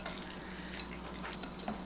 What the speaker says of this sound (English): Go ahead and give that a little stir with my whisk.